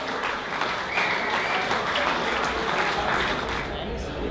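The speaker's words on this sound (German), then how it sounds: "Oh, ist da einen Applaus, bitteschön, meine Damen und Herren" A crowd at the opening ceremony of the Wachauer Volksfest folk festival applauds steadily, a dense continuous patter of clapping with faint voices mixed in, holding at an even level throughout.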